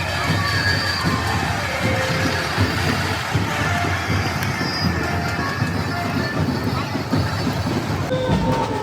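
A dense crowd gathers at a Maghi Ganpati idol arrival procession in Kandivali, making a continuous loud roar of voices with shouts and cheers throughout.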